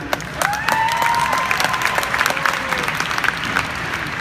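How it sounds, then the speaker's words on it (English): Applause from an audience at a live taste-stimulation device demonstration, moderate clapping with some cheering, while faint voices and tonal sounds ride over it. "round of applause"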